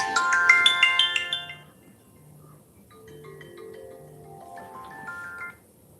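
A phone ringtone for an unknown caller plays a bright, loud chiming melody up close, then trails off and returns more softly with repeated tones.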